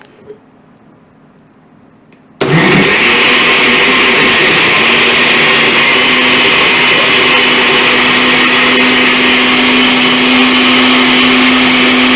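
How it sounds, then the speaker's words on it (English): After a couple of seconds of quiet, a blender of garlic sauce starts abruptly and whirs loudly and steadily right up close until the end. "Cover up our blender"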